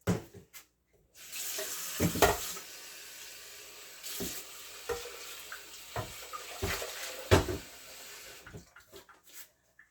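Kitchen tap water running in a home kitchen while making oat dumplings, a bright hissing stream that starts after a brief pause and continues with several sharp clatters and splashes as something is held under it.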